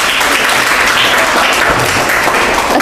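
Elementary school students at SD Muhammadiyah 2 Waru clap together in a classroom or hall, a loud, continuous patter of many hands that stays even from start to finish, with no voices on top.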